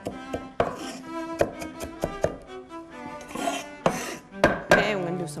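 A knife minces onion finely on a cutting board, with quick irregular chops and short scraping strokes in close, loud bursts and brief pauses between them.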